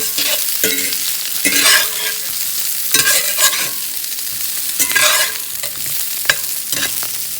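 Food sizzling steadily in a hot frying pan while being flipped, a continuous loud crackle punctuated by several bright scraping and clattering bursts as the pieces are turned over one by one.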